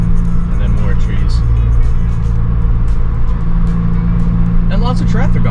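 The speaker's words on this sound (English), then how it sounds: "And lots of traffic on this road too." Steady stream of road traffic on a rural road, cars passing close and loud one after another with a constant engine and tire roar, a person talking over it.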